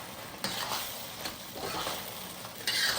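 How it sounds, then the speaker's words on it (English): Pepper steak sauce thickens in a pan while being stirred, making a quiet, continuous bubbling sizzle broken by a few brief scraping strokes, with the last one louder near the end. "And stir it, and it'll thicken it up."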